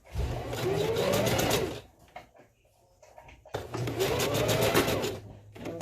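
A sewing machine stitching a closure wig, running in two sustained, fairly loud bursts of rapid needle chatter with a brief quieter pause of handling between them.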